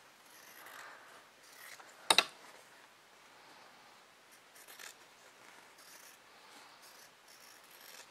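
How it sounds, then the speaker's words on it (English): New fabric scissors snipping through cloth, one sharp double snip of the blades against a faint rustling background, quiet and close with no talking. "now I switch to my brand new scissors for fabric"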